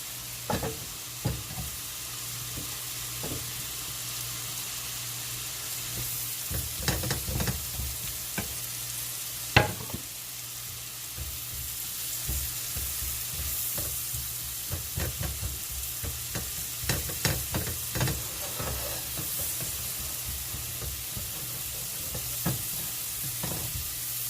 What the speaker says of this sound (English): Now we're going to add these onions in there.